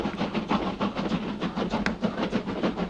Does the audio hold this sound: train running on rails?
yes